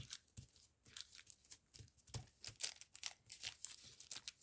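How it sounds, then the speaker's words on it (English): Tissue paper is scrunched and torn by hand in close, quiet bursts of crinkling, with irregular crackles and sharper tearing rips repeating throughout. "now let's get scrunching, and I might have to tear some off of this"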